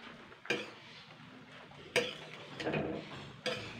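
Boiled keora fruit is stirred in a pot with a spoon, giving a few sharp clinks and scrapes spaced about 1.5 seconds apart, with a soft sloshing stretch between them, moderately quiet and with no talking.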